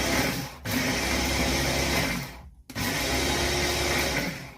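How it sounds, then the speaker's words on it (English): A hand blender whirs steadily while blending curry, running in two sustained bursts with a brief stop between them, close and loud with a gritty churning texture. "I definitely go with hand blender."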